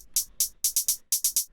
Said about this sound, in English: more like drum machine style hi-hats